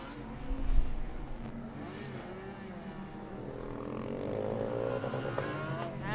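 A Formula Student race car, number 58 from Lemgo, rolls onto the track at an endurance event, its engine building from a low hum into a rising rev that grows louder toward the end.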